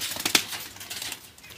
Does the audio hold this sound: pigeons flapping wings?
yes